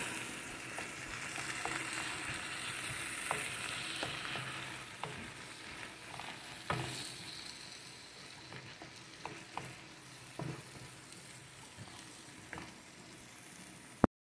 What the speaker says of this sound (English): And we're gonna stir.